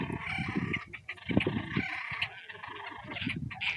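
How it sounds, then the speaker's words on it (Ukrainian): Ducks calling by a river near a railway bridge during mating season, a run of repeated harsh quacking calls at close to mid distance, loud and uneven, with no talk over them. "Качечки кричать, у них брачний період"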